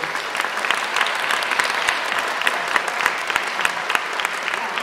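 Stormy applause from a concert audience fills the hall, a dense, steady wash of many hands clapping close and loud throughout, with no one speaking.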